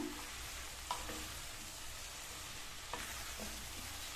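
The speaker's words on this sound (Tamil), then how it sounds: "ஹை ஃப்ளேம்ல வச்சு 2 நிமிஷத்துக்கு இந்த மசாலால இந்த அவரைக்காயும் பச்சை பட்டாணியும் நல்லா வதங்கிட்டு இருக்கட்டும்." A quiet, steady sizzle of broad beans and green peas cooking in masala on high flame, with a couple of faint stirring scrapes.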